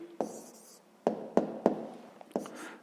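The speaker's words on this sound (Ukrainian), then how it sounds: "записуємо зараз відповідь, пишемо відповідь" A pen writes a math answer on paper, several short scratchy strokes and taps spaced irregularly, close and fairly quiet with no talking.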